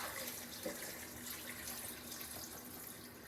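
Water pours steadily into a pot of octopus stew, a continuous close rushing stream with no voices over it.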